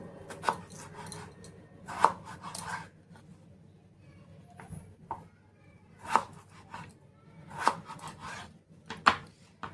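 A peeled potato is cut into pieces with a knife on a board. Several sharp, separate chops come at irregular intervals against a quiet background.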